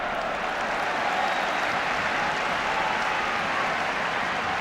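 Large football crowd in Finland during a 1982 friendly against England, a steady dense roar of cheering and applause filling the stadium continuously, distant and broad with no single voices standing out.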